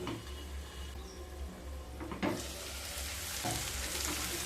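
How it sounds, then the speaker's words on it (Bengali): Potatoes stirred in a pan over medium heat for kundri posto, a steady close sizzle of frying with a few scraping stir strokes partway through. "আবারও একটু নেড়ে নেব।"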